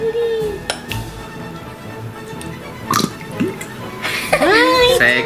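Slime squeezed in a container lets out a wet, squelchy fart-like noise near the end, following softer clicks and handling sounds while children and adults talk throughout.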